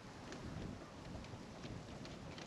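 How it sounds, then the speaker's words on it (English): Wind blowing outdoors on a disc golf course, a faint continuous rushing buffet across the microphone with gusty fluctuations and no voices. "And the wind picked up."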